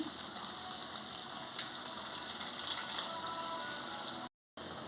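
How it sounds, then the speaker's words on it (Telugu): Small sooji appalu fry in oil in a kadai over a medium flame, giving a soft, steady bubbling sizzle with faint crackles. The sound holds evenly at a low level, then cuts out briefly near the end. "మీడియం ఫ్లేమ్లోనే ఫ్రై చేసుకోవాలి"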